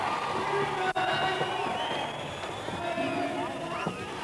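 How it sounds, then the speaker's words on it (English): Lively crowd cheering and whistling at the 1991 European Skateboard Championships in Dublin, a broad roar of voices with a sharp clap, while a commentator talks over it. "Oh, the crowd really loving this."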